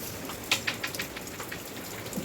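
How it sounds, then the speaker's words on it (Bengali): Rain falling at night, heard as a soft steady patter with a few distinct drips and taps standing out, fairly quiet and without voices. "এখনো বৃষ্টি পড়েই যাচ্ছে"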